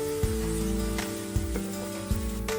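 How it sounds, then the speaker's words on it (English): Finely chopped large onions and green chilies sauté in a kadai over a medium flame, giving a steady close sizzle with a few soft clicks, heard alone without talk. "Add 2 finely chopped large onions and 2 green chilies. Sauteing for about 2 minutes on medium flame."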